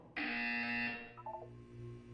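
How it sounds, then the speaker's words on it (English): A buzzer from the video game Portal 2 blares in one loud electronic tone for about a second, then fades into lower echoing tones and a brief stuttering beep pattern, with no voices. "When you hear the buzzer, look down at the floor."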